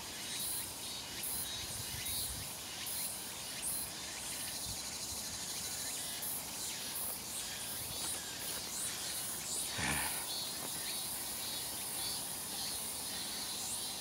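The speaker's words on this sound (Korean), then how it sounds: "매미 소리하고" Cicadas drone loudly and continuously in a dense, shrill buzzing chorus that fills the outdoor air without pause on the summit of Masan in Siheung, South Korea.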